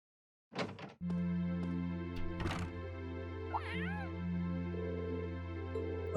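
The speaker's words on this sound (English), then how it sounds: "There's a cat upstairs." A cat meows in the Trails of Cold Steel game, with a short knock or thud heard first and then a clear meow rising over steady background game music.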